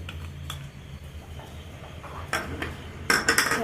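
A spoon clinks and scrapes against a pot while curd is stirred into beetroot pachadi for an Onam feast, with scattered taps early on and a busier burst of clatter near the end over a low steady hum.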